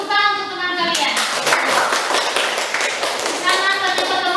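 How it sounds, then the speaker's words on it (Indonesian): Classroom applause for classmates after a presentation: children's voices ring out at the start, then a burst of quick, close hand clapping, with more young voices rising again near the end. "Tepuk tangan untuk teman kalian"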